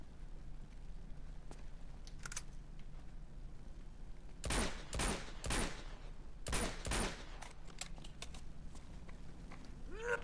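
Gunfire bursts from the Uncharted 2 video game crackle over a steady low ambient bed, two clustered volleys in the middle, moderately loud, with no speech.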